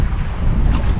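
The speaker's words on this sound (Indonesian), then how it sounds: "Teman-teman, kita pakai double mesin" A fiberglass fishing boat running on twin Suzuki outboard engines makes a loud, steady low rumble, heavily buffeted by wind across the microphone.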